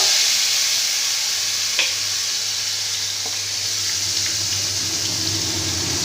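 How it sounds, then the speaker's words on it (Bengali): Bitter gourd hits hot oil tempered with bay leaf and radhuni spice, giving a loud, steady sizzle with a couple of faint clinks, no voices. "প্রথমে আমি উচ্ছেটাকে দিয়ে দেব"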